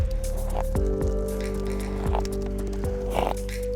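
A nervous young horse shifts about in an enclosed area near flapping plastic on a windy day, with scattered hoof thuds and rustles over a steady low hum and a person talking nearby.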